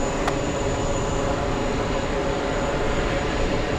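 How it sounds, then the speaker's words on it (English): A Virgin Atlantic airliner arriving from Manchester at JFK airport, heard as a continuous broad jet engine roar, steady and fairly loud throughout. "Our next big plane is Virgin Atlantic flying in from Manchester."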